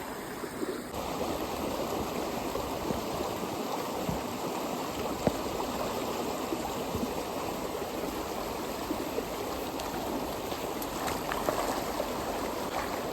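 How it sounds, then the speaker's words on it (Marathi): Water running steadily outdoors on a farm while hands and feet are washed, a continuous close splashing rush with no voices. "आता आलोय मी हातपाय धुवायला"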